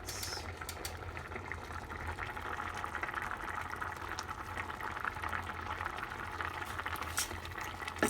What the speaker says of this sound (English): I will let all that boil and mix up all together